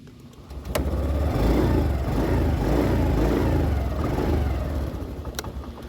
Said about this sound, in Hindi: इंजन को स्टार्ट करने के साथ ही वो अपने एक्सीलरेटर को रेव करते हैं।